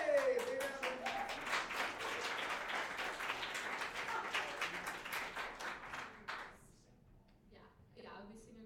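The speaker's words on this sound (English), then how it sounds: "Big round of applause." Audience at an adult music school showcase gives a round of applause, dense clapping for about six seconds that then thins out and fades, with a voice speaking near the end.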